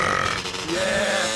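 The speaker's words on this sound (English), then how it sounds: "Oh, burping" A short, guttural burp in a GTA Vice City Stories game scene, a single rough belch lasting about a second, fairly loud and close with no talk over it.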